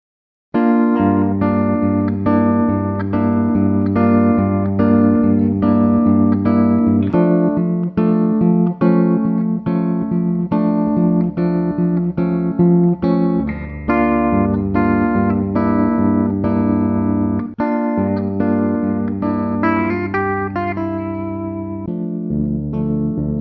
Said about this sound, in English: I'm noticing it's a rather dark sounding guitar